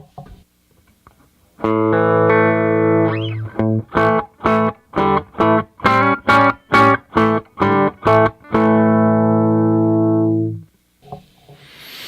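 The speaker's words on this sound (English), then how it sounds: "I'm going to strum my guitar so that your ears can acclimate to no overdrive, no anything turned on" A clean electric guitar runs through a 65 Deluxe Reverb amp with no overdrive, starting with a sustained chord, then a rhythmic series of choppy strums, then a final long ringing chord.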